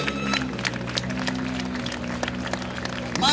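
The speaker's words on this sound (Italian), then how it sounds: "accogliamo con grande applauso Manuel Sossella con Gabriele" A crowd applauds rally drivers at an awards ceremony for a rally in the Treviso area, a mid-level wash of scattered claps over a steady background hum, with faint voices mixed in.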